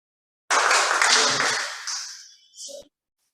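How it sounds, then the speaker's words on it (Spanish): A short burst of audience applause at an oratory lecture, a dense wash of clapping that starts abruptly, holds for about two seconds and then fades out quickly, ending with a brief trailing sound. "Muy bien, fuerte aplauso."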